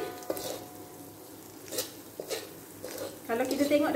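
Mee lidi noodles are stirred and fried in a pan, giving quiet scraping strokes and soft sizzling that grows louder toward the end, with no talking.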